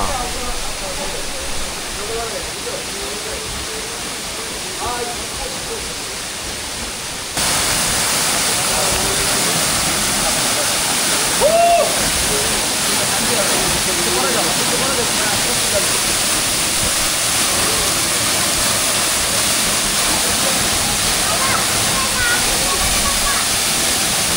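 Waterfall in the jungle hills near Sajek, a loud, steady rushing roar of falling water that grows louder partway through and continues throughout, with voices briefly audible in places.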